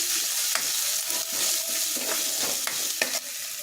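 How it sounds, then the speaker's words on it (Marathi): A spoon stirs masala as it dry-roasts in a pan for tomato saar, giving a steady low sizzle broken by sharp scraping clinks against the metal, close and clear with no voices. "मसाला आता चांगलापणे आपण व्यवस्थितपणे ड्राय करून घेऊया ह्याच्यामध्ये."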